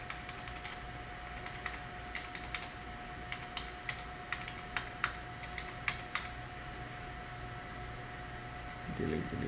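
A single key on a gaming PC's computer keyboard is tapped repeatedly, producing a series of faint, evenly spaced clicks over a steady fan hum and electrical whine.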